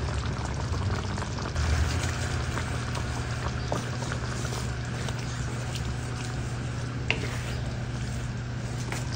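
Condensed milk is poured into a simmering macaroni sauce with meat, giving a soft, steady liquid pour over the low bubbling of the pot, fairly quiet and continuous with no voices.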